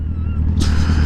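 A Ducati motorcycle rumbles close by with a steady low engine note, then a louder, brighter surge of noise swells in for the last half second.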